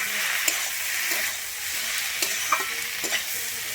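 Khesari greens and beans are stirred with coconut in a hot pan for a vegetarian dish, giving a bright, continuous frying hiss with a few light clinks of the spoon stirring.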